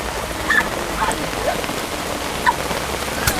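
Steady rain falls outdoors by a lake at Situ Sukarame in Sukabumi, a dense even patter on surfaces with a few louder drops standing out. It runs continuous and close throughout.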